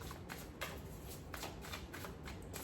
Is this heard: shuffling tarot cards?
yes